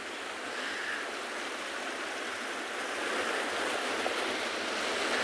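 Heavy swell breaking along a South African shoreline, a continuous rushing roar of surf that holds steady throughout, heard alone without voices.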